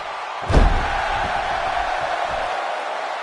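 A Rock Bottom slam in the WWE 2K16 wrestling video game lands as one loud, sharp impact, followed by a sustained arena crowd roar that carries on steadily afterward.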